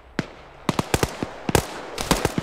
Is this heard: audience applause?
no